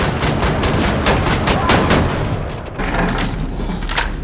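Shotgun fire from a first-person shooter game booms in rapid repeated blasts, loud and close, with metal shattering and explosions layered in and the shots briefly thinning near the end.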